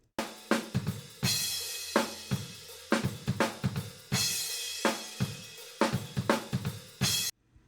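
A drum kit heard through a room microphone gives punchy kick and snare hits with washing cymbals. The sound is full and roomy, in a steady groove of close, loud strikes with no voices.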